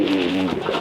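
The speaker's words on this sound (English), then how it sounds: "beautiful bird." A pigeon or dove gives a single short, close coo with a low, warbling tone, clear and alone.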